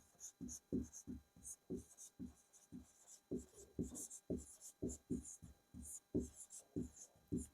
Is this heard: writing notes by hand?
yes